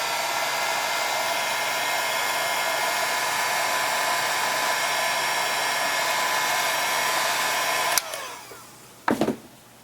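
A heat gun or hair dryer blows steadily while reheating plastic around screws during disassembly of a Samsung Galaxy Player 5.0, a loud continuous whooshing hum that cuts off near the end, followed by a couple of handling clicks.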